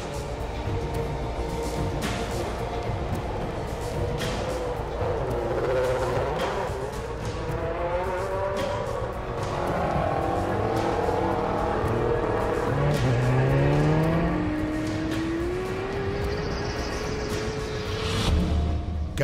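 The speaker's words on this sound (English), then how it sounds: "David deliberately spins his rear tyres to make them hotter and stickier so he has more grip off the line." A Formula 1 car on the starting grid, with its rear tyres deliberately spun, howls close and loud as the engine revs climb and fall in repeated sweeps over a constant rasping background, ending in a rising whine.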